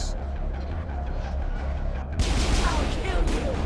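A player's gun firing in Mass Effect during combat, with rumbling battle noise that breaks into a louder, denser stretch of gunfire partway through, and a voice speaking over it.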